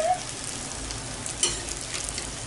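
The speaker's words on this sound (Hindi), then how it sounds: "आप चाहे तो हल्का भी सेकिए, थोड़ा लाल भी कर लीजिए।" Jalebi frying in hot oil, halwai style, makes a steady soft sizzle and crackle close up, with a brief clink partway through.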